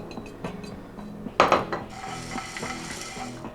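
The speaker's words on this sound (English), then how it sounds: "on a pan, you want to toast all your aromatics for about 4 to 5 minutes" Chili oil aromatics toast in a pan while a utensil clatters and scrapes against the metal, with one sharp clang in the middle and a soft sizzle underneath, all close up and under quiet background music.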